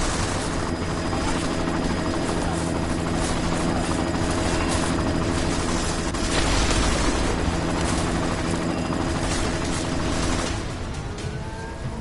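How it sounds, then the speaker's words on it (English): Helicopter in a video game, a loud continuous rotor drone with steady mechanical whine, running unbroken for most of the stretch before easing slightly near the end. "You've got to stop that chopper."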